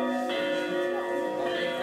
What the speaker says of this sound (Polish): Nowy dzwon?